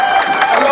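A church congregation cheers and applauds, a steady broadband wash of crowd noise with claps and voices lasting under a second, fairly loud and continuous.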